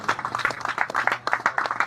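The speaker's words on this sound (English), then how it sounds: "A round of applause, please." An audience applauds with distinct, uneven claps from a modest crowd, close and fairly loud.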